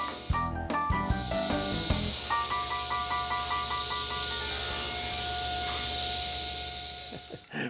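Table saw cutting a wooden workpiece set against a stop block, starting with knocks and thumps, then a steady whine and rasping hiss through the cut that fades as the blade winds down.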